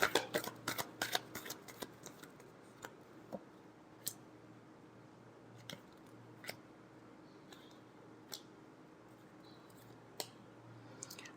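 Tarot cards being shuffled by hand, a quiet sequence of crisp card flicks and taps, dense at first then spaced out, close and soft against a steady low hum, with no talk.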